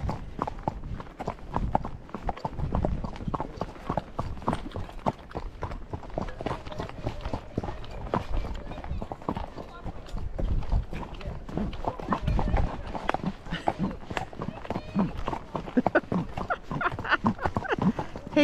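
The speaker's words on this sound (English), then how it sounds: "Horses." Missouri Fox Trotter horses' hooves clip-clop along a trail at Empire Mine State Park, a steady close rhythm of hoofbeats on soft ground with occasional voices in the background.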